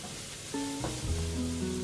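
Onion seeds, also called nigella seeds, are stirred around a dry pan with a soft, scratchy frying hiss and a few short tonal scrapes of the utensil against the metal.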